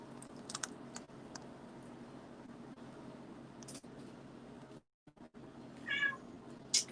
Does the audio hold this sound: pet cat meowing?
yes